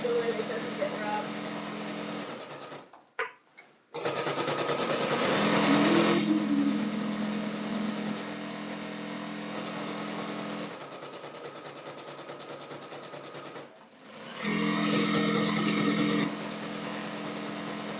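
A sewing machine stitches a wave bargello quilted rug in steady humming bursts, with two short pauses between runs and a person talking over the motor.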